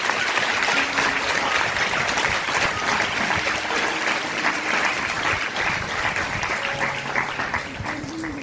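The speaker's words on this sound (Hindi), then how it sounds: "आई इन सब बातों के लिए जोरदार ताली देकर प्रभु को धन्यवाद।" A crowd at a youth camp gathering gives loud, sustained applause to thank the Lord, a dense wash of clapping that carries evenly throughout and eases slightly near the end.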